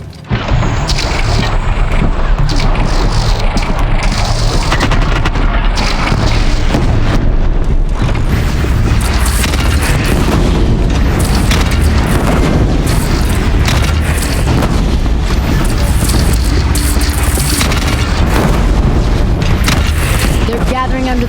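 Cannon fire in Horizon Zero Dawn during a battle with a bandit clan, loud repeated booms and crackling blasts over a busy, continuous battle din, with voices shouting at times.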